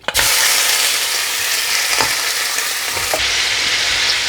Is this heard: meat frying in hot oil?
yes